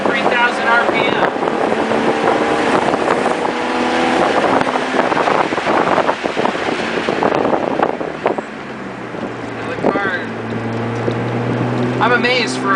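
A modified stock BMW M3 engine pulls uphill from low revs, a steady droning exhaust note heard from inside the car amid wind noise, with a voice speaking over it.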